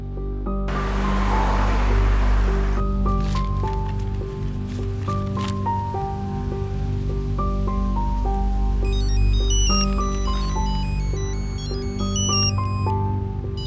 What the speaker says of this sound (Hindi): घर से आ रहा है फोन।